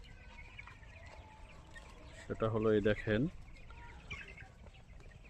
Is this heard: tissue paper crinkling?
no